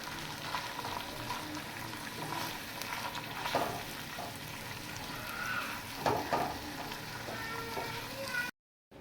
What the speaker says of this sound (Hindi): कुकिंग ऑयल शामिल करेंगे, इसमें बारीक कटा हुआ प्याज, इसको ब्राउन होने तक पकाएंगे।